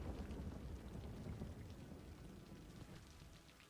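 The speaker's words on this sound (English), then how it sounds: "we've got a nice bit of ambiance with the pouring rain in the background" Steady pouring rain in Cities Skylines during a storm, a dense hiss of drops with low rumbling underneath, fairly faint and continuous throughout with no voices.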